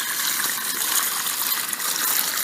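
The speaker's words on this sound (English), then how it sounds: "had a hose discharging into a 5-gallon bucket here" A water heater drain hose discharges into a 5-gallon bucket, a loud, steady gushing splash of water pouring into the container, close up and alone without any talking.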